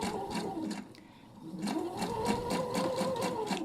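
A Pfaff Quilt Expression 720 sewing machine stitching at a moderate pedal speed, its motor humming with a steady rhythmic needle clatter, a short pause near the start, then steady running.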